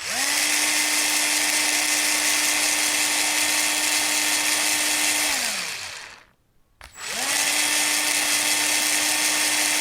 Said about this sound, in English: If you guessed a drill, you are spot on.